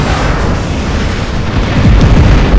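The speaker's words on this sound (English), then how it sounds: "the Ballista, long-range weapon" The Ballista, a long-range energy weapon in a video game, fires with a loud, sustained booming blast, a dense rumbling roar that swells slightly toward the end.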